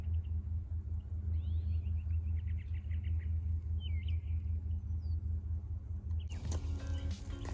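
A Segway Ninebot F40 electric scooter rolls along slowly in eco mode, giving a steady low rumble with faint high whines and chirps, then a brief burst of rattling noise near the end.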